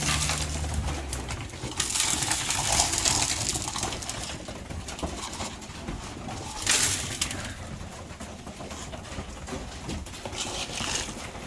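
Racing pigeons coo amid a dense wash of wing flutters and pecking as they are fed in batches, with steady broadband noise throughout.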